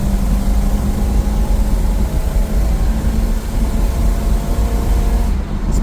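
A 1969 Chevelle barn find with a rebuilt carburetor runs on its first test drive, its engine a loud, steady, low rumbling drone that holds throughout without a break, with no voices.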